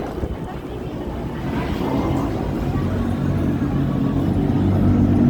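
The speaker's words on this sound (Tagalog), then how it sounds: "Grabe mahangin guys." Strong, cold early-winter wind in Korea buffets the microphone in a steady low roar that builds and stays loud, with a faint engine-like rumble underneath.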